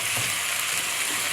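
Potatoes (aloo) tipped into a pot of sizzling curry seasoning with green seasoning and minced culantro, a steady close hiss of frying with a faint stir, no talk.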